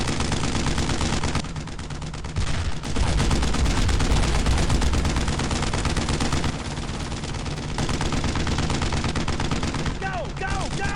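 Heavy, continuous gunfire aimed at a German tank in Brothers in Arms, a World War II shooter, with overlapping automatic bursts and shots that stay loud and close throughout, and no clear voices over the din.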